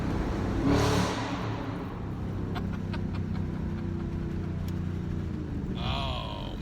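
A 2014 Shelby GT500 pulls in second gear at around 60, its engine giving a steady, close, low drone that holds evenly throughout.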